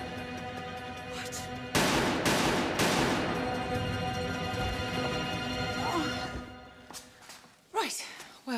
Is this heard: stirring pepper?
no